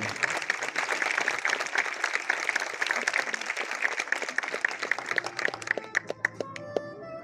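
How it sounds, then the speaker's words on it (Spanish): Applause for new health graduates at a university ceremony: a dense burst of clapping that thins out toward the end into a few separate, sharper claps. "Un aplauso a los nuevos profesionales."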